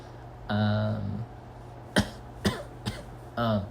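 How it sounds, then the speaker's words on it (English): A person coughs several times close by, short harsh bursts broken up by brief pauses, some of them with a raspy vocal edge. "I thought we were going to have a coughing fit"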